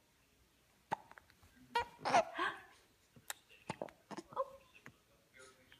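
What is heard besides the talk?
baby hiccups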